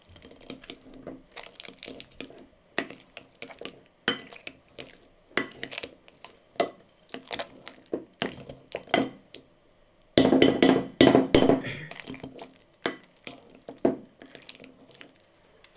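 Thick polenta with cream is stirred in a pot, giving irregular soft clicks, taps and scrapes of the utensil. A louder, denser burst comes partway through.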